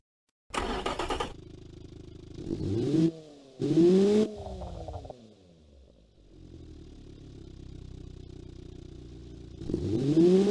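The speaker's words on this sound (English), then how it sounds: "Let's test the engine." Inline-four car engine in the Automation game being rev-tested, with sharp rising and falling revs in separate bursts and a steady idle between them, loud and close with no talk.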